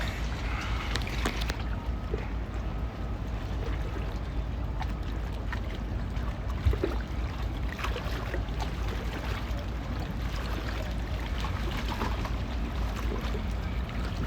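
A boat motor rumbles steadily on the water for a long stretch, with wind and splashing mixed in, a low continuous drone without talk.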